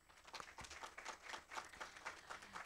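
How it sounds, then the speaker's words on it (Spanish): Audience applause at a scientific conference session: a steady patter of many hands clapping, moderately distant and evenly sustained throughout, with no pauses. "Quiero pedir un fuerte aplauso para ella."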